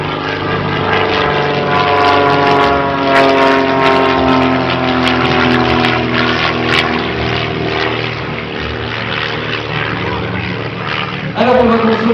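Stampe SV4 biplane flying overhead at an air show at Limoges Bellegarde airport, its propeller engine droning loud and steady with a wavering pitch throughout.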